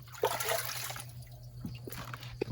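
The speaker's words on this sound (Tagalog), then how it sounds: "Kuha tayo dito ng tubig." Collected rainwater is scooped for watering plants, giving brief, close splashes and trickles against a low background hum.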